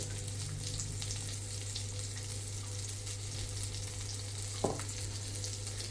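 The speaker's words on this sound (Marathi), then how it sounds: "याला दोन्हीकडून चांगलं तुम्हाला शेलो फ्राय करून घ्यायचं आहे" Potato and pea cutlets shallow fry in a pan with oil, giving a steady, close sizzle that runs unbroken throughout, with one small clink near the end.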